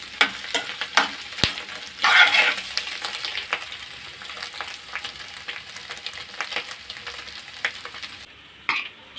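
A spatula stirs chicken into fried rice sizzling in a hot pan for street-style chicken fried rice, with steady frying hiss, scattered scraping clinks, a louder burst of sizzle early on and a sharp clank near the end.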